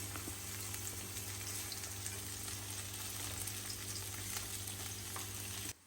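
Onion fries in a pan for homemade burgers, giving a dense, even sizzle that holds steady and close throughout, then cuts off abruptly at the very end.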